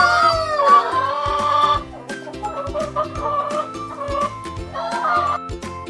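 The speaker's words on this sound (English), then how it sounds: "They make a clucking sound." Chickens clucking on a farm, a lively run of short repeated clucks and squawks from several birds close by, busy and uneven throughout.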